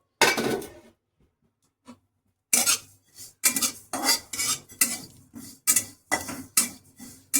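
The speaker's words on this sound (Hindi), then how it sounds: "अजवाइन भी देखो धीरे धीरे ड्राई रोस्ट होने लगा है" Ajwain seeds dry roasting in a pan, stirred with a metal utensil that clatters and scrapes in repeated bursts after a short quiet pause, close and fairly loud.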